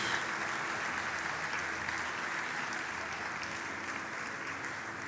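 A church congregation applauds during a Spanish-language worship service, a continuous wash of many hands clapping at a fairly soft, distant level that stays steady throughout, with no speech on top.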